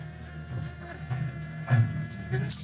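A wild bee colony buzzes in a jungle tree. A continuous, close insect drone carries a low humming tone that swells slightly now and then, with no talk.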